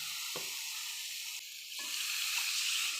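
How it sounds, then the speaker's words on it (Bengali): Amra and mustard paste fry together in a pan with a steady sizzle; midway the sound briefly shifts as water is poured in, then the sizzling carries on, with no talking. "এবার আমি জল দিয়ে দেবো পরিমাণ মতন"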